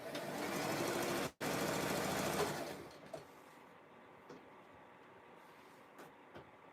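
Sewing machine joining fabric strips for a jelly roll rug, a close, steady run of about three seconds with a brief pause midway, then quiet handling clicks.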